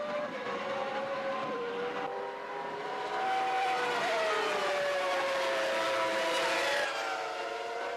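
Damon Hill's Formula One car heard from onboard at the 1995 Argentine Grand Prix, its engine howling continuously and rising and falling in pitch through gear changes, loud and close with no voices.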